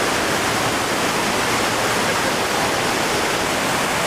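A waterfall at Vogel State Park in Georgia roars loudly and steadily, a dense unbroken rush of falling water with no voices.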